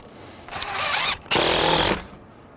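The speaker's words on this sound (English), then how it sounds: "Now we're gonna use three mounting screws here." Power driver sinking mounting screws into a carriage light fixture during wiring: two loud whirring bursts of about half a second each, separated by a brief pause, close by with no talk.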